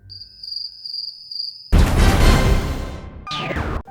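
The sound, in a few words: cricket sound effect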